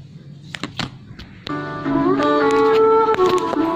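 A song plays through the Bluetooth speaker built into a modified TV: after a few soft taps and clicks, steady tonal music starts and carries on, fairly loud and close, with no talking over it.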